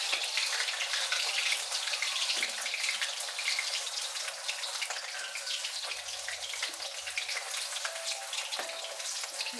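Potatoes hiss and crackle as they fry in a pan, a steady bright sizzle running unbroken with only faint background movement.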